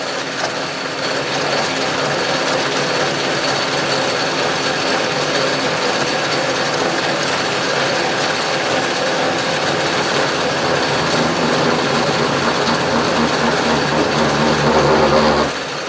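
A 1914 Sidney Tool Co 14-inch pattern lathe runs and cuts for the first time in twenty years, a loud, continuous mechanical rumble and whirr holding steady throughout.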